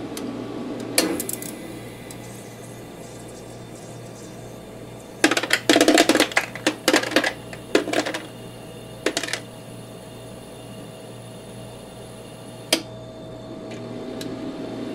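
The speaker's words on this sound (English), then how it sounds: "And now it's going to harvest the ice." A FREE VILLAGE countertop ice maker harvests ice: a low running hum, then bursts of close clattering and rattling as ice drops, followed by a single sharp click and quieter hum.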